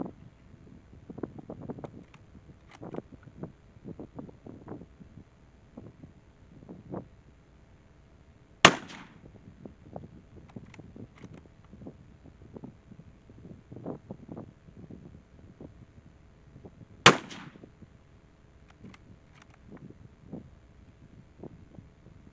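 Two sharp, loud .308 Winchester rifle shots crack about eight seconds apart outdoors, separated by wind buffeting and faint rustling.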